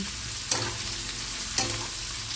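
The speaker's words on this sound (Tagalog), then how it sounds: "magtatalsikan po ang ating mantika, masakit pa naman sa balat." Hot oil sizzling steadily as pork fries in a pan, with two sharp spattering pops standing out above the constant close hiss, no voices.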